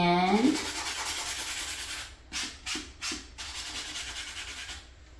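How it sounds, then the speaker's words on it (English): Sandpaper rubs against a small craft vase for a distressed finish: a steady, close scratchy rasp, then three distinct short sanding strokes in quick succession before the rubbing settles again. "Or I want this distressed look, so I'm using sandpaper."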